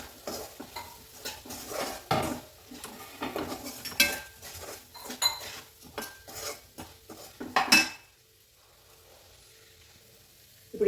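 A spoon scrapes and clinks against a pan while coriander powder and spices are stirred into an aloo matar tomato curry, with faint sizzling, in irregular close bursts for about eight seconds before going quiet.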